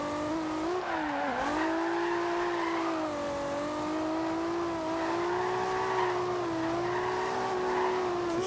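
In Forza Horizon 2 a Toyota Supra slides sideways, a sustained shrill tire squeal riding over a constant engine whine that wavers with each correction, close and unbroken, no voices.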